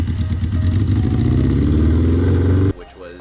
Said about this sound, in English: we actually got the engine to turn over and start it